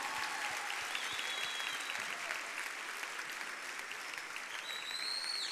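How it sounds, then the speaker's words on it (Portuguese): A church congregation applauds during a Portuguese-language worship service, a steady dense wash of clapping from many hands filling the room at moderate level, with no voices standing out. "Vamos aplaudir o Senhor pela vida dele"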